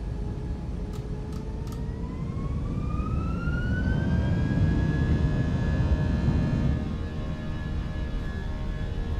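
Airbus A319 jet engines in a flight simulator spool up, a rising whine climbing steadily in pitch over a broad rumble that grows louder and then holds at a steady high tone.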